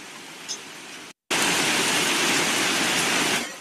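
Steady, dense rain hisses close and full, briefly cutting to silence, then returning louder and continuing evenly.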